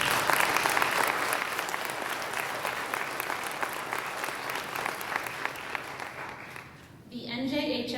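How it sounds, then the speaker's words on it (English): Sustained applause from an audience at a National Junior Honor Society induction ceremony, dense and steady for about seven seconds before fading out, with a voice starting up right after. "Please join me in thanking them with a round of applause."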